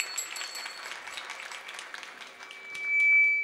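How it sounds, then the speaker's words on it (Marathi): An audience at a devotional kirtan applauds everyone, making a soft, fairly distant wash of many hands clapping that holds steady throughout, with a faint tone ringing near the end. "आता एकदा सगळ्यांसाठीच वाजवा"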